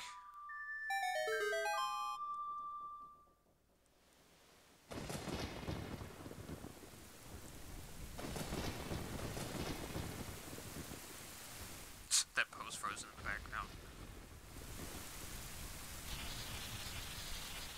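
Rain and thunder from a graveyard storm in The Legend of Zelda: Ocarina of Time, following a short rising ocarina melody, with steady loud rain, a sudden sharp thunder crack near the middle and a voice speaking over it.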